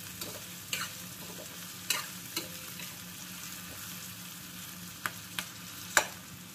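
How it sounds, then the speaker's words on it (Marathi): Peas and potatoes frying in a pan, a steady soft sizzle broken by a handful of sharp pops and bursts scattered through, with light stirring and no talk. "वटाणे फुटतात हे मटार, थोडंसं सांभाळून"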